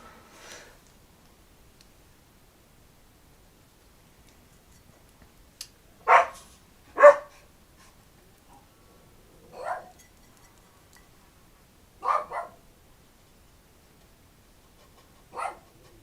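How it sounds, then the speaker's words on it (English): Dogs bark outside a home while a watercolor pet portrait is being painted: about six sharp single barks spread irregularly over several seconds, muffled and moderately loud, with silence between. "Sorry about my dogs. I don't know what they're barking at outside, but something."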